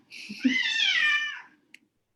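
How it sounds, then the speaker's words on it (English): A cat gives a single clear, drawn-out meow of about a second and a half, close and fairly loud, with faint low room noise underneath and a short click right after it ends. "I'm sorry, there is a cat."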